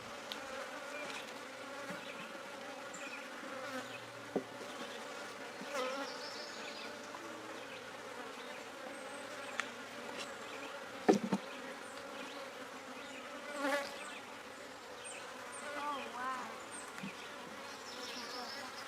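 Honey bees buzzing around a backyard beehive, a steady close drone of many wings with individual bees passing louder near the listener.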